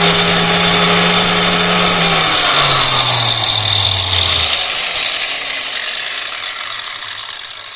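A Hasston Art 3110-001 marble cutter runs loud and close, a high-pitched motor whine with a rattling mechanical edge whose tone drops steadily as it winds down over several seconds, alone without speech.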